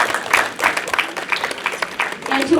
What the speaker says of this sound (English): A big round of applause for the man of the hour.